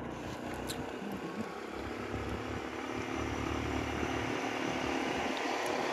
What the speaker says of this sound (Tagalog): So sumakay lang po ako ng motor.